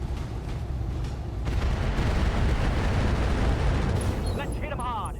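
An ATM missile explodes in a BattleTech game, a dense, roaring burst that swells after a second and rumbles on steadily, with brief high synthetic chirps near the end.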